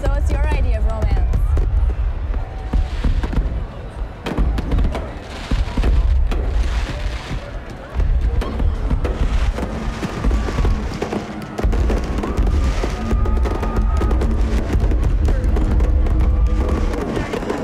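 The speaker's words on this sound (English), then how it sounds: "this exact fireworks show happens every Friday at 9:30 p.m." A fireworks show bursts repeatedly, sharp cracks and booming explosions arriving in irregular clusters with crackling tails, loud and fairly close, with voices faintly audible beneath.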